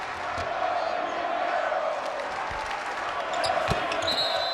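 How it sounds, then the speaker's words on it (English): A basketball arena crowd at an NCAA Tournament Sweet 16 game between North Carolina and Indiana, roaring and chanting a player's name in a steady, dense wall of noise that swells slightly near the end. "And the chants raining down for Yogi Ferrell"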